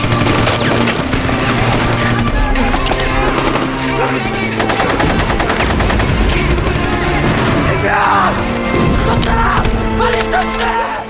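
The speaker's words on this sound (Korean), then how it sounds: "총알이 빗발치는 그곳에 준하가 있었습니다" Heavy gunfire in a war battle scene from the Korean film Classic: dense, continuous machine-gun bursts and rifle shots crackling together, loud and relentless, layered with a rumbling soundtrack.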